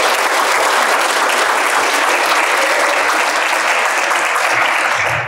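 Audience at a club talk in Wroclaw applauding, a loud, dense, continuous clapping that fills the whole stretch without letting up.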